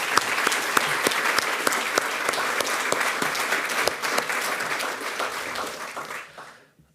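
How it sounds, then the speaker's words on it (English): At the closing remarks of a conference, an audience gives a full, sustained round of applause, many hands clapping densely and loudly before it fades out at the end. "So just a quick round of applause to those who made this event possible."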